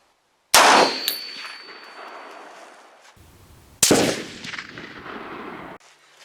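An M1A rifle fires two loud, close shots on an outdoor range about three seconds apart, each a hard crack that rings off and decays slowly into the open air.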